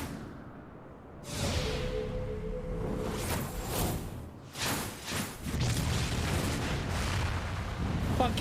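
Cannon fire in the Final Fantasy XIV video game, with loud booming blasts and rushing whooshes that roll over several seconds while voices talk through the barrage.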